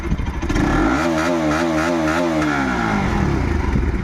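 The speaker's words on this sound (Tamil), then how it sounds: "இந்த வண்டியோட எக்ஸாஸ்ட் சவுண்ட் காட்டுறேன்னு சொன்னேன், இப்போ காட்டுறேன் உங்களுக்கு" Modified Bajaj RS200 motorcycle exhaust revving close by, a loud continuous engine roar whose pitch rises and falls through a throttle blip, then holds a steady, gritty drone.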